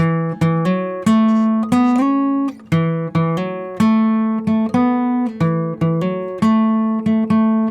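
Electric guitar picks out a melody, a string of clear, ringing single notes with slides and finger rolls in a loose, repeating hill-country blues rhythm, played alone and up close.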